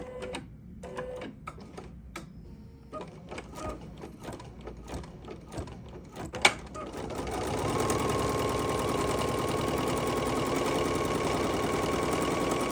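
An embroidery machine stitches an in-the-hoop make-up bag, first with scattered clicks and mechanical knocks, then settling into a loud, steady, rapid whirring stitch rhythm close by.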